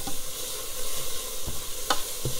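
A spoon stirs garlic and vegetables cooking in a soup pot, scraping a few times against the bottom over a continuous sizzle, close and clear with no talk.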